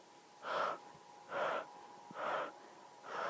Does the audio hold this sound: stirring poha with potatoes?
no